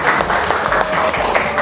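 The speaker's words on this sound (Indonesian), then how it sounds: "Dan kasih tepuk tangan yang meriah untuk kita semua." A brief burst of clapping from a small group in a classroom session, close and fairly loud with uneven individual claps, over a faint tone and slight background talk.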